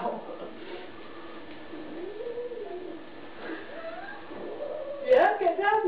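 A house cat lets out soft, drawn-out meows that rise and fall, with a sharper cry near the end, all at fairly low volume indoors.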